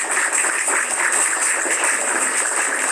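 Steady hand clapping from a crowd or group, continuous and fairly loud for the whole stretch, with no pauses between claps.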